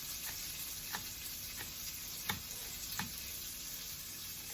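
Onions frying in butter in a skillet give a steady, close sizzle, with a few faint ticks and scrapes from stirring.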